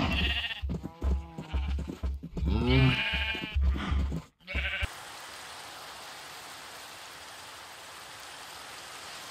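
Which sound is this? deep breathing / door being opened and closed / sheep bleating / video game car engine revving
sheep bleating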